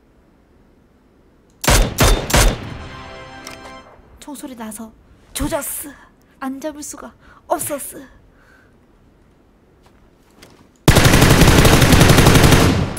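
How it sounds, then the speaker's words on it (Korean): Loud bursts of rapid video game gunfire, short volleys with someone talking in between, then a long sustained burst of automatic fire to finish. "총소리 나서 조졌어."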